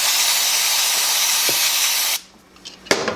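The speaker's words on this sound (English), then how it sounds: "You may have to stop, reapply some chain cleaner" Chain cleaner sprays onto the chain of a Benelli TNT 135 motorcycle in a loud, continuous hiss for about two seconds, then cuts off, followed by a couple of faint knocks and a brief, sharp final spurt.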